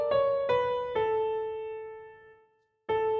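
Single ascending piano notes played slowly one after another, each ringing out clearly, with a brief silence before the last note.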